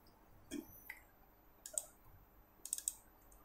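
Computer mouse clicks at a desk, a few sharp faint clicks spaced irregularly in a quiet room, including a quick pair near the end.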